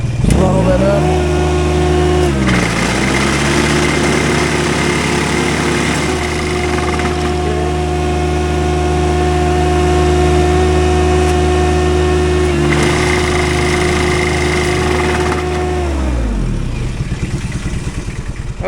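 A Gravely AXIS 200DT runs a vibratory plow with its engine throttled up: a loud, steady, close mechanical drone that rises at the start, dips briefly, then holds at high revs before winding down near the end.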